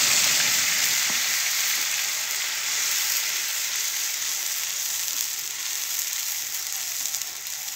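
Ground masala paste fries in a pan for a Uttar Pradesh-style nimona, giving a steady, close, even sizzle that holds for the whole stretch with no talk over it.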